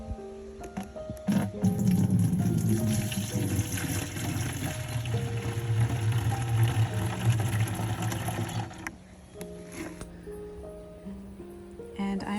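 Worm tea and water poured into two garden watering cans, a loud gushing, trickling stream lasting several seconds before tapering off into quieter splashes and handling noises.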